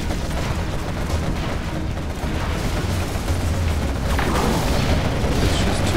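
Air strike explosions in the Zero Hour video game, a continuous dense roar of booms and rumbling blasts, loud and sustained throughout.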